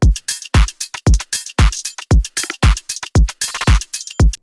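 A remixed beat built on a drum loop with punchy kicks, crisp hats and syncopated percussion, hitting in a tight, steady pattern that is loud, close and free of any voice.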